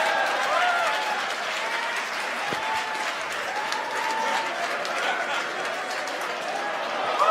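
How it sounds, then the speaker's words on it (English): SpaceX CRS-16 launch staff cheering and applauding, a continuous wash of clapping and crowd cheers, distant and steady, with a voice talking over it. "if you guys can hear the cheering in the background from IT members"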